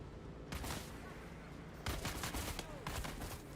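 Gunfire in the video game Dune Awakening comes as loud, dense bursts of rapid shots in several clusters, close and heavy with no pauses between them.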